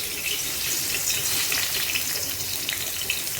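Chillies dropped into hot oil for a ridge gourd and potato dish give a steady, close, broadband sizzle that hisses evenly throughout with no pauses and no talking.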